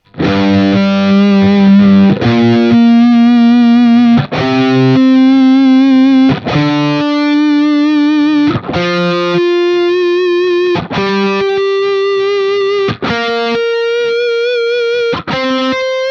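Distorted electric guitar plays a rising sequence of notes, each followed by a bright, ringing harmonic an octave above, sustained and loud with no talking.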